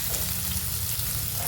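Onion fries in a paste of garlic, green chili and cumin, giving a dense, steady sizzle that fills the whole moment at close range.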